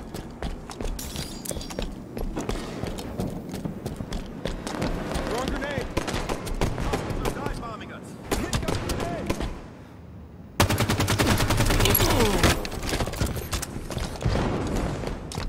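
Gunfire in Halo 5 during sniper-rifle play: dense, near-continuous firing and battle noise with rapid repeated shots, a short lull, then a louder stretch, while a player talks over the game.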